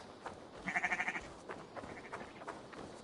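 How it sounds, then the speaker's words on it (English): A sheep in Assassin's Creed Valhalla gives a short wavering bleat, a quick pulsing vibrato cry at moderate distance, followed by faint game ambience and soft background sounds. "The sheep."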